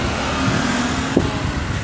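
An old Renault car idles or rolls alongside on a Honolulu street, a steady close engine and road rumble with a faint whine, continuous and fairly loud, no voices.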